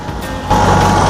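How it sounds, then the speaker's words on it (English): A low tractor engine rumble swells louder midway and holds steady, a heavy motor running close by with no voices. "Here comes the vroom tractor."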